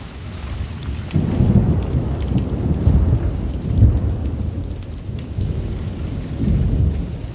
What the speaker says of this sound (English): lightning everywhere.